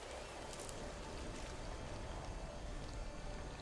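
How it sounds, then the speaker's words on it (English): Choppy water washing and lapping in the No Man's Sky video game, a steady dense rush of waves close by with no talk over it. "Oh, look at the water. It's getting a bit choppy."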